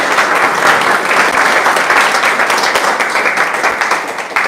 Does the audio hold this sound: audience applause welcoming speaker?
yes